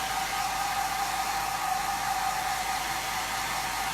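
A hair dryer blows steadily over a freshly inked shirt, a constant loud whooshing roar with a faint whine running through it, close and unbroken, with no voices.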